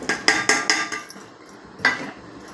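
A pestle pounds green chillies, garlic cloves and cumin seeds in a mortar, several sharp rhythmic thuds close together, a pause, then one more strike, loud and near.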